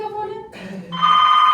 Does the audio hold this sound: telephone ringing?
yes